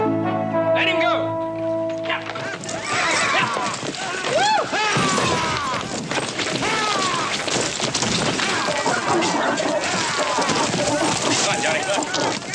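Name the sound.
horse bucking and galloping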